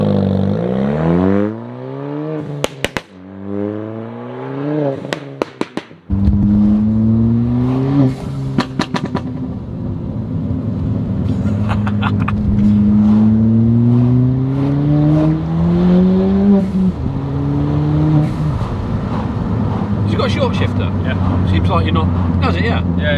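Engine of a 380bhp Ford Fiesta ST revving hard and close, rising and falling pitch sweeps over repeated throttle blips and longer pulls, loud throughout with people talking over it.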